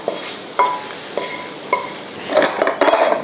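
Cooked shrimp and basil filling for puffs being scraped into a bowl: a few sharp spoon-on-dish clinks at spaced intervals, then a busier cluster of clattering and scraping near the end, close and clear with no talk.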